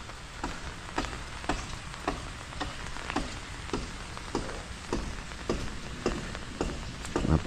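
Steady rain patters on a hard surface outdoors after days of rainfall, with a dense hiss of drops punctuated by louder, regular ticking drips close by.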